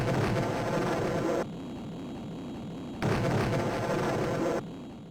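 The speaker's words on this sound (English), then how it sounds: "instead you have to drop an AER bomb, then fly away and detonate it" Bomb explosions from an Amiga video game played on a stock Amiga 500 Plus: two loud, broadband blasts, each cutting off abruptly into a quieter rumbling tail, with no voices.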